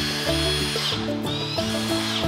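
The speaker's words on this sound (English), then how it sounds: "screwing down battens" A power drill drives screws into wooden battens, a close, loud whirring whine that rises and stops in several short repeated bursts.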